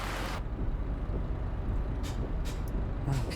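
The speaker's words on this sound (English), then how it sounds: "Oh, parking brake." Air brake on a 43-ton 30 ft low loader truck releasing its parking brake: a loud broadband hiss bursts at the start, then short sharper hisses recur over a steady low engine idle.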